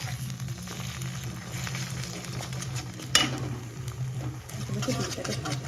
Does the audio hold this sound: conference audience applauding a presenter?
no